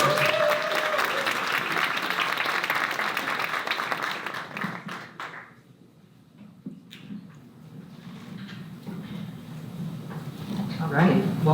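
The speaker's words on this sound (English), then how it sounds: "So please give them a warm round of applause." A tech-industry event audience gives a warm round of dense applause that builds, then fades out after about five seconds, followed by quieter room noise and a voice starting to speak.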